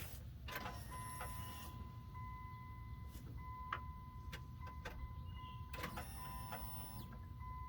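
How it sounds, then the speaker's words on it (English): A 2003 Dodge Ram 1500 fuel pump primes as the key is cycled on after a replacement: a faint, steady electric whine with a few soft ticks and clicks over low background rumble, and no speech. "I hear the fuel pump cycling on, so that's good."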